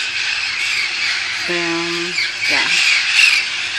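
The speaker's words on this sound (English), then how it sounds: "And these are parrots." Parrots squawk in harsh, rough calls with a bird-like whistling cry in the middle, against a steady hiss of outdoor noise in Pasadena, California, while a person briefly speaks.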